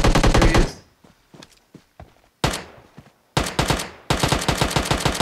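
Automatic gunfire in PUBG Mobile, a loud rapid burst at the start, a few scattered single shots and thuds, then two more sustained bursts of rattling fire close by, with no talking.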